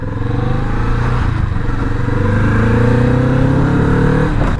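Kawasaki Vulcan S motorcycle engine revving while riding, a loud close droning exhaust with pitch rising and falling under steady wind noise.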